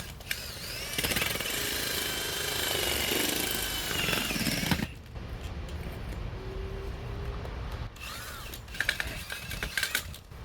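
A large, wide auger bores into the ground for a shed foundation, giving a loud, rough grinding roar that runs for about five seconds, drops away, then returns briefly near the end with sharp rattling bursts.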